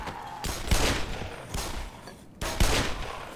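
Three heavy Magnum revolver shots fired in the video game Black Mesa, each a sharp loud blast followed by a short ringing tail, spaced about a second apart.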